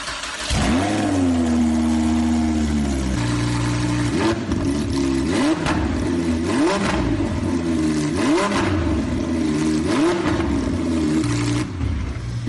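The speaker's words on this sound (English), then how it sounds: "Oh my goodness, dude, the engine roared." A Lamborghini Huracan's engine, restored after fire damage and a sensor repair, revs loudly and repeatedly. A close, roaring series of throttle blips rises and falls in a steady rhythm after an initial sustained rev.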